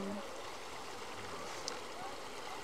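Stream water flowing down from a cave in the rural countryside makes a soft, continuous rushing wash, faint and steady, with a brief voice at the start.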